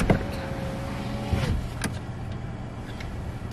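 Car power window motor whirring as a window rolls up, a steady rising hum lasting about a second and a half before stopping with a soft thunk, close by inside the vehicle on a chilly day.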